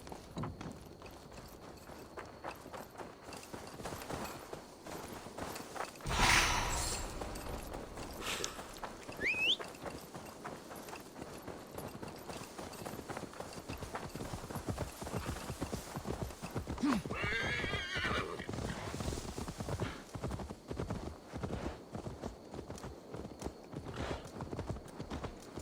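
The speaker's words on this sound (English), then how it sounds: "Now to deliver Magni his horse" Horse hooves clip-clopping at a steady walking rhythm with a sharp neigh partway through, set in Assassin's Creed Valhalla's Viking-era England, ambient game sounds around them and occasional voices.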